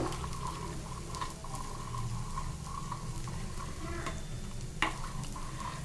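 A horse gram mixture is stirred continuously as it cooks. A soft, steady bubbling and scraping bed runs throughout, fairly faint, with a few light spoon knocks and no talk.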